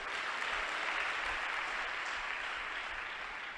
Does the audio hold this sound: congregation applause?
yes